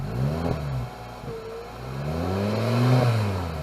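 A parked MK5 Volkswagen Rabbit revved through a newly installed cat-back exhaust, its engine note swelling and falling in several close, loud throttle blips with a deep rumble.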